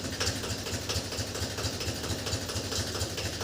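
A Mahindra 275 tractor engine running during a brake trial after a dry disc brake service, a steady rhythmic diesel chug with regular low pulses, heard up close and alone.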